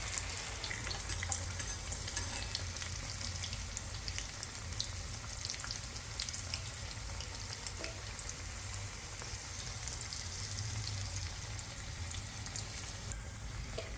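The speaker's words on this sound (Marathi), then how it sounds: "असे तळायला सोडायचं आहे तेलामध्ये आणि डीप फ्राय करून घ्यायचे।" Colocasia leaf rolls (alu vadi) deep frying in hot oil give a steady, dense sizzle and crackle that holds evenly throughout, close and continuous with no talking.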